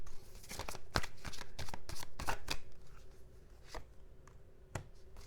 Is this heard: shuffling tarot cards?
yes